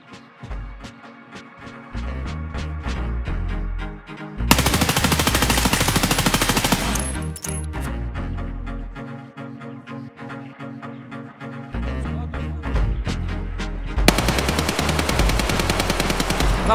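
Automatic gunfire in Escape from Tarkov on the Interchange map: loud, sustained full-auto bursts around the middle and again at the end, with sharp single shots scattered between them over a tonal background.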